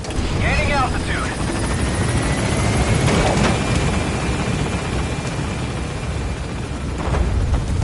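A helicopter lifts off in the video game Metal Gear Solid V: The Phantom Pain, its rotor drone loud and continuous throughout, with brief voice-like sounds near the start.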